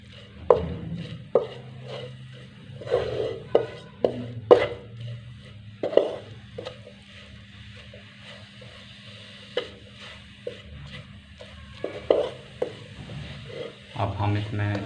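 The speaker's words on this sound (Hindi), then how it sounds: "इनको 15 से 20 सेकंड के लिए हम भून लेंगे।" Ingredients are dry-roasted in a pan for a potato pinwheel snack, with intermittent scraping and clattering stirs over a faint, low sizzle, close by and fairly quiet.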